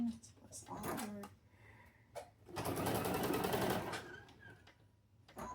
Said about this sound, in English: I'm going to flip it so it's easy for me to sew on my machine